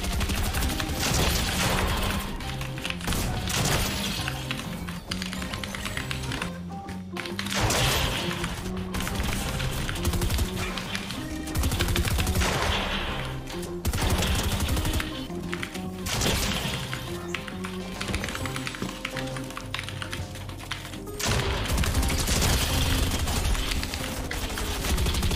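Dense video game gunfire crackles almost nonstop, with rapid automatic bursts, single shots and crashing impacts layered loud and close for the whole stretch, barely any talk.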